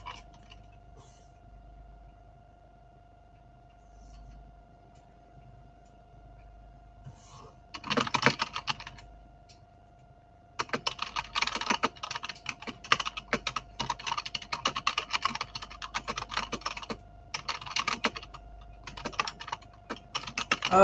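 Typing on a computer keyboard in quiet bursts of rapid key clicks, with a steady faint tone underneath and pauses between stretches of typing.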